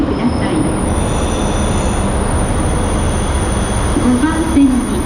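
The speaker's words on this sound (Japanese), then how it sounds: "5番線に列車が到着いたします。" A local train pulls into a Japanese station platform with a continuous rolling rumble, and high wheel squeals rise near the end as it brakes.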